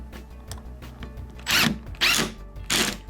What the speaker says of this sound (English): I'm going to grab my drill for simplicity's sake here.